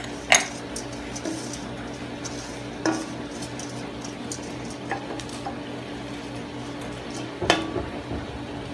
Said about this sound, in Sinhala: හොඳින් මිශ්‍ර කරනවා.